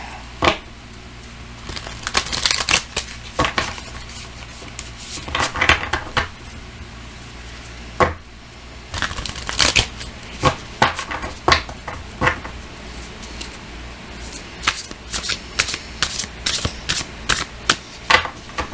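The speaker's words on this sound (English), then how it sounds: "I need to shuffle it again." Close, papery riffling and flicking of tarot cards being shuffled, in irregular bursts of soft clicks and slaps, with no one speaking.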